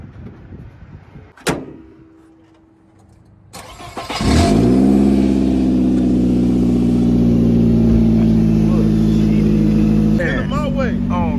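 An old car with a faulty starter gives a sharp door clunk, then a loud, sustained cranking-to-running engine drone that holds steady for several seconds with a faint high whine, near and close, with people talking briefly.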